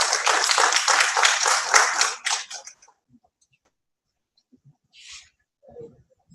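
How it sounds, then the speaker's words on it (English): Audience applause for a speaker at a youth internet governance forum in Nigeria: dense clapping for about two seconds, tapering into scattered claps, then near silence with a few faint stray sounds and a brief murmur. "Can we please give him a round of applause, please?"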